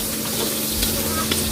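Pork fat melts in a pan, giving off a continuous, close sizzle and crackle with a few small pops over a short moment.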